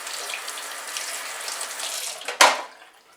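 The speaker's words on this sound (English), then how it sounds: "rinse it out." Tap water runs steadily into a sink while pomade is rinsed from a comb, with a brief louder splash near the end as the flow is disturbed.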